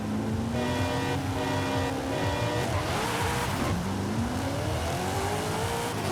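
Nissan Silvia S14 in Forza Horizon 5 pulling hard under load, its engine note climbing steadily, dropping at a gear change near the middle, then rising again, with faint tire noise throughout and no voices.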